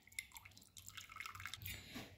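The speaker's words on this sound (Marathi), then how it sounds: "सगळं पाणी डाळीतलं काढणं असं नितळून घ्यायचं।" Water drains and drips off cooked lentils as they are strained in a home kitchen, a faint, close trickle with scattered droplets and no talking.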